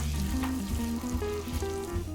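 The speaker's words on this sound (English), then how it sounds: "On the pan we used earlier, melt a 1/4 stick of butter on medium heat. Once melted, add the sugar and mix." A quarter stick of melted butter and sugar sizzling over medium heat in a pan for a persimmon upside-down cake, a loud, steady close crackle with faint stirring.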